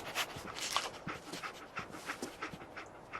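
A dog pants in Fallout 4 on Xbox Series X, giving quick, steady breathy huffs at close range with no talk over them.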